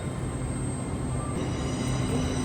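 An LNER InterCity 225 train at London Kings Cross gives off a steady rumble and hiss, continuous and moderately close, with a faint tonal whine over it.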